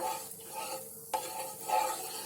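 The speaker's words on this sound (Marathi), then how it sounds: "गॅस पेटवलाय आणि तवा ठेवलाय, त्याच्यावरती असा बटर टाकायचा." Butter on a hot tawa griddle over a gas flame, a soft continuous sizzle with a faint scrape or tap midway, close and fairly quiet.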